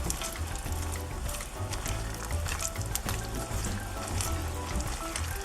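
Onions and peppers for pepper steak sizzle steadily in a pot, a continuous crackling hiss with faint clatter, close and even throughout, no speech.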